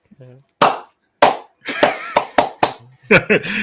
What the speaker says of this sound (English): No, not sarcastic clap, but the good one.